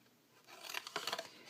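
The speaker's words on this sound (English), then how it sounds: "now we're going to do some trimming and cutting up on the score lines up to that 1-inch score going across." Scissors snip and trim cardstock along score lines for a Halloween paper craft. A few quick close cuts and rustles are heard, faint and brief.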